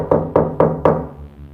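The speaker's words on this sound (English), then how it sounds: "Sounds like someone's knocking on my door." Four firm knocks land on a door at an even pace, each one sharp and close, followed by a quiet room tone with no voices.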